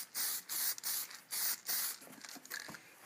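Bursts of spray paint hiss onto homemade JDM turn signals as a second coat goes on, about five short sprays in steady rhythm followed by quieter, choppier passes.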